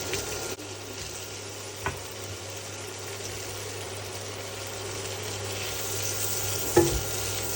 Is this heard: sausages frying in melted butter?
yes